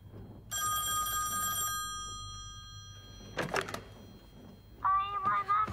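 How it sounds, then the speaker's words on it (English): An old-fashioned telephone bell rings in a sustained burst, followed by a thump and a brief electronic chiming tone. "He can make phones ring, he can."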